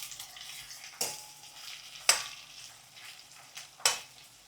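Tomatoes, onions and green chillies frying in a pan: a soft steady sizzle with three sharp stirring scrapes spaced about a second apart, no talk.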